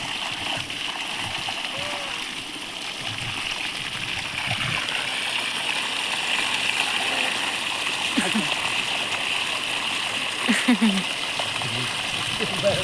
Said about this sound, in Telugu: అయ్యో మమ్మ వాటర్ వస్తున్నాయి